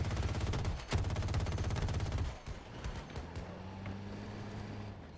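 Ebaa Wildcat anti-aircraft gun in the Battlefield 2042 video game firing in bursts, a loud dense rattle of rapid shots for over two seconds, then quieter game engine hum and distant battle noise.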